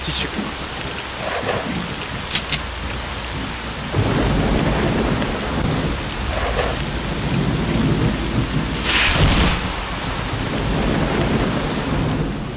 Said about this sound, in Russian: Да, дождь вообще тут не к тему.